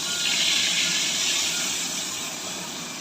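Water pouring into a hot pan of spices cooked in oil for a home-style koi fish curry, giving a loud, sustained rushing hiss that slowly eases off, close by with no talk.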